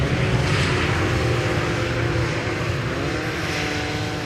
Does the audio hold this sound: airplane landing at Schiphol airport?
yes